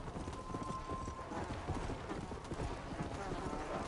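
Hooves clip-clop in a steady, continuous rhythm as a horse is ridden in the video game Red Dead Redemption: Undead Nightmare, with a faint buzzing tone underneath.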